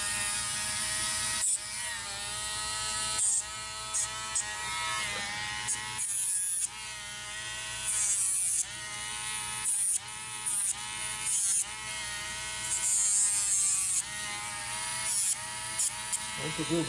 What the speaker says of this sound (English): I always use the Dremel.